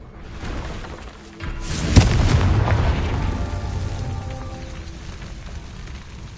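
A Confringo blasting curse in the game Hogwarts Legacy, heard as a sharp crack followed by a rolling, crackling boom that swells and slowly decays, with no one talking over it.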